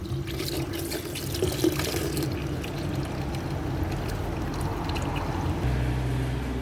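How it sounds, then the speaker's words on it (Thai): Tap water runs steadily from a faucet to rinse large mushrooms that have soaked in salt water, a continuous close splashing rush that holds throughout, with the flow shifting slightly near the end. "มาล้างกันนะคะ จะเปิดน้ำนะคะ"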